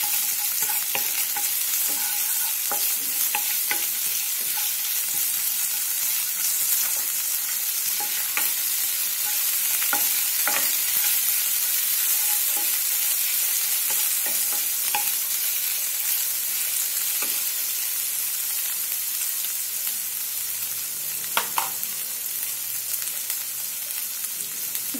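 Ginger, garlic paste and chopped green chilli sizzle steadily in a pan over a medium flame for Manchow soup, a constant loud hiss with occasional stirring scrapes and no talk.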